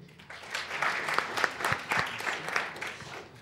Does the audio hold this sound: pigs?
no